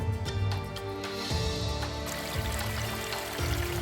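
A clear mountain forest stream gurgles and trickles steadily as water is collected for coffee, a close, continuous wash of flowing water with no talking.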